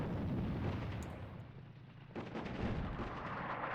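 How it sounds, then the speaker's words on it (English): Artillery barrages pounding tanks in a WWII North Africa strategy game at Tobruk, a dense rumbling stream of booming explosions, heavy low thuds rolling over one another with no pause. "Perfect, more artillery strikes on those tanks."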